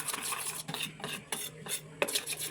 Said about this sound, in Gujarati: બેટર મિક્સ કરી દેવાનું છે.